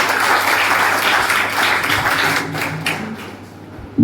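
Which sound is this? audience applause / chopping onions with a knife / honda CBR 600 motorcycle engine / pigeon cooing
audience applause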